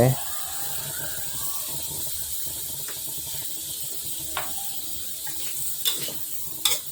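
A shrimp stir-fry with oyster sauce sizzles quietly in a pan while a utensil stirs and scrapes through it, with a few sharp clicks and scrapes toward the end.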